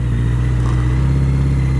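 A BMW K100 motorcycle engine runs steadily at a smooth idle, a constant low drone with a strong fundamental hum and faint harmonics above it, close and loud throughout with no talk.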